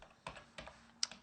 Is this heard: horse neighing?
no